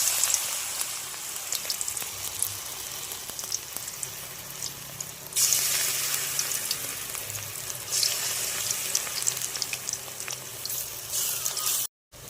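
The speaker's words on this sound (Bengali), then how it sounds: "তেল গরম হয়ে গেছে, সজনা ফুলের বড়াগুলো আমি দিয়ে দেবো" Drumstick flower fritters frying in hot oil, a continuous close sizzle and crackle that swells louder partway through and stays dense until a brief cut near the end, with no voices.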